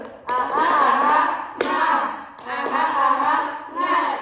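Children in a group counseling session clap a rhythmic 'tepuk semangat' routine, sharp hand claps punctuating loud group chanting in several short bursts.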